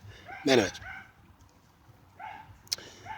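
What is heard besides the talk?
neighbour's dog barking in the background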